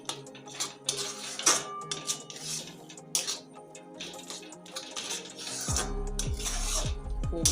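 A spoon scrapes and knocks around a pot as semolina is stirred into palm kheer, with irregular clinks and rubbing strokes and a low rumbling tone near the end.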